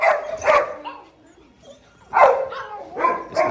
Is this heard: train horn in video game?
no